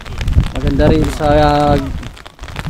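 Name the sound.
rain falling outdoors by the river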